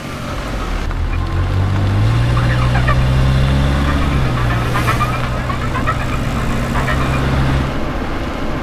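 A car engine runs loud and close, revving as it pulls away and holding a steady drone that fades slightly near the end.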